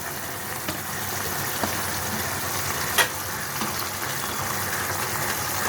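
Mourola fish and potatoes simmer in a poppy seed gravy with a soft, steady bubbling sizzle and a few faint clicks, quiet and continuous with no talk over it.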